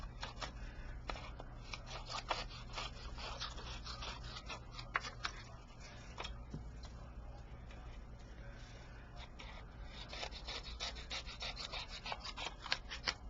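Quiet, repeated scissors snips and paper rustling, close by, with irregular soft cuts over a low background hum.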